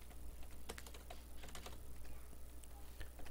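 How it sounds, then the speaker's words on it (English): Fast keystrokes on a computer keyboard entering a towing company's name into an Excel spreadsheet, soft clustered clicks in irregular bursts over a steady low hum. "So we'll type in Clem's Towing here."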